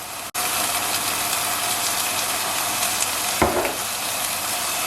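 Ground meat fries in a pan with minced garlic and chili lime seasoning, giving a loud, dense, steady sizzle up close, with a brief scrape of stirring near the end.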